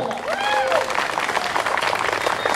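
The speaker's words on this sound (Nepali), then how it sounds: "हाम्रो गेस्टहरूलाई स्वागत गर्नको लागि प्लिज ताली बुझाइदिनु न" A band concert audience breaks into lively applause and cheering to welcome guests, the crowd noise loud and continuous while a voice briefly rings out over it at the start.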